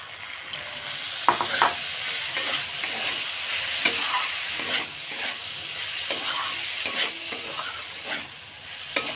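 Sago pearls tipped into a hot pan with a little sugar, chaat masala and salt, frying with a steady broad sizzle and scraping stirs, close and continuous, no talk.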